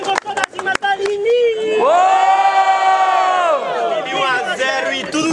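Live crowd at a student freestyle rap battle cheering and shouting loudly for a rapper, a sustained roar of voices and whoops with a few sharp claps at the start.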